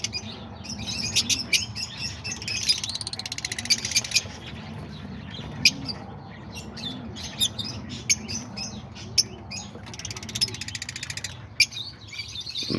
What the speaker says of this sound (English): Oh yeah, I also got these new lovebirds. These are peach face.